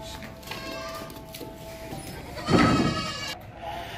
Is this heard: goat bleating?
yes